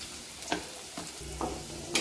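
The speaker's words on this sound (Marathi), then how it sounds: "जिरे परतून झाले की आपण त्याच्यात लसूण पण टाकून घ्यायचं आहे" Garlic added to cumin seeds frying in oil for shepu (dill) bhaji, with a soft steady sizzle and a few brief stirring scrapes of a spoon against the pan, close and fairly quiet.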